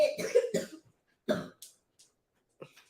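A person coughs in a harsh, close burst of several quick coughs, then a single cough after a pause and a softer cough at the end.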